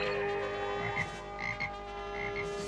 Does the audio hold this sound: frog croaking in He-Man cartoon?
yes